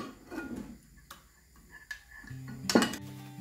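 A utensil stirs a filling for vegan conchiglioni pasta in a dish, making soft scrapes and a few sharp clinks against the dish, with a louder clatter near the end, all quiet and close with no talking.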